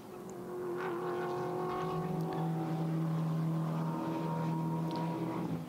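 GT4 race cars, an Audi among them, run at the Nürburgring, with a steady distant engine drone that holds a sustained tone while the cars pull away, fairly faint and even.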